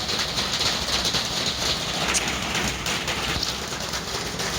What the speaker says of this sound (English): Currently raining here in Las Vegas.